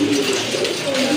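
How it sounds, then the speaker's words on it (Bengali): A Nun pigeon at a pigeon sale coos steadily in low, soft tones throughout, close by, with faint background noise and no clear talk. "সুন্দর একটা নট কবুতর"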